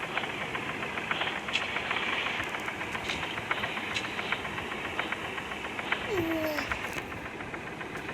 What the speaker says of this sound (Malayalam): ഞാൻ ആദ്യത്തൊന്ന് ബാക്ക് എടുക്കട്ടെ. ഇതൊന്ന് ബാക്ക് എടുത്തുകൊണ്ട് ഫുള്ളൊന്ന് ചെക്ക് ചെയ്യട്ടെ.